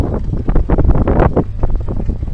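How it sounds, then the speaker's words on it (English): Blustery wind buffeting a microphone at an outdoor tractor show, a low rumbling roar that swells and dips in short gusts, close and fairly loud. "there's still a breeze blowing"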